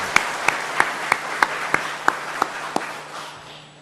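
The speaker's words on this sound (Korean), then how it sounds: "박수 한번 치시죠." About nine evenly spaced sharp claps in a church sanctuary, crisp and moderately loud, fading into a soft reverberant tail with no talk.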